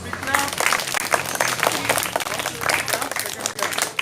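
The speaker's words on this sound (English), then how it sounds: "all of you give big clap." Children at a moral story-telling competition clap together in a group, dense uneven clapping close by with some voices mixed in.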